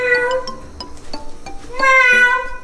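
A person imitates a cat's meow in a home, trying to coax a hiding cat out from behind a refrigerator; a few short, tonal mewing calls with a longer, louder meow near the end.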